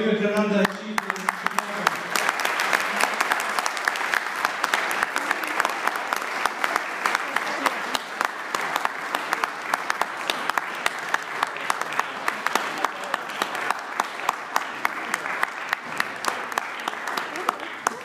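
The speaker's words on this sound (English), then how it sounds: "Please, let's have a round of applause like Vivekananda achieved in Chicago." Audience applause at a closing ceremony in Birmingham for a four-year-old speaker, a long, even round of dense clapping from a large crowd that holds steady throughout.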